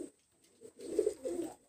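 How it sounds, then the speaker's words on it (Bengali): A pair of new running pigeons coos softly nearby, with a couple of short low murmuring coos over quiet background hiss. "এই জোড়াটা হলো নিউ রানিং কবুতর"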